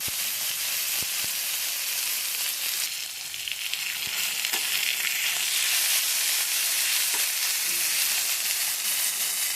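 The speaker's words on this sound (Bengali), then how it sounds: "এখন সিমটা ভেজে নিব।" Flat beans fry in oil in a pan, giving a continuous loud sizzle and hiss with faint stirring scrapes.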